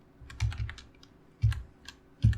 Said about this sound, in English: Typing over your back is difficult